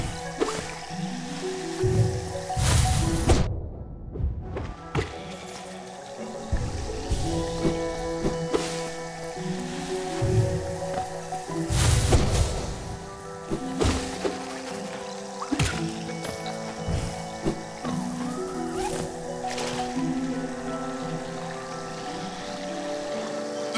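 In the video game Hollow Knight, a character swims through water in Queen's Gardens, giving wet squishy splashes and drips layered over sustained game music, with occasional louder splashes.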